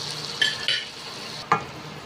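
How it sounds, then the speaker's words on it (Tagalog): Butter melts and sizzles in a pan for pineapple fried rice, a soft steady frying hiss punctuated by a few light clinks of a utensil against the pan. "ilalagay ko na po ang ating mantikilya sa pan"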